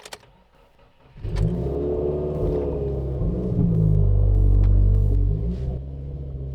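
A Subaru WRX engine cranks briefly, catches and starts. It settles into a loud, steady idle rumble that swells slightly as it revs, then eases back.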